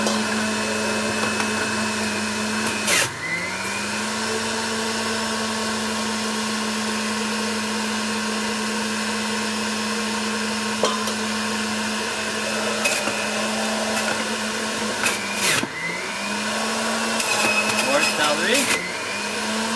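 A Breville juicer grinds apple and carrot in a steady, loud motor whine with harmonic hum, its pitch dipping briefly as chunks are pushed in around the third and fifteenth seconds; occasional clatter and brief voices are faintly present.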